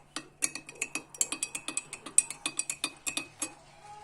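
A spoon stirs a homemade cough remedy drink in a glass, giving a steady run of about twenty quick metallic clinks against the sides, close and fairly even in rhythm.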